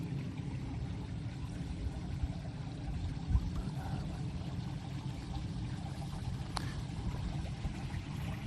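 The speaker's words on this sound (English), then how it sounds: "There's a water feature incorporated into the car." A water feature built into a planted-up car at a German federal garden show, pouring in a steady continuous splash and trickle outdoors, with no talk.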